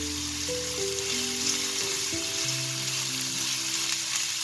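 Peas are tipped into a crisp vegetable stir-fry with vermicelli over lowered heat, and a close, even sizzle runs throughout with faint tonal clinks and hums underneath, no voices.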